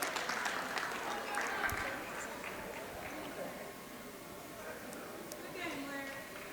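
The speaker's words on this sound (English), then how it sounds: "she's going to get a round of applause from the home crowd for her effort tonight" A home crowd at a girls' high school basketball game in Uniontown applauds a player who has fouled out, steady clapping that tapers off while talk continues over it.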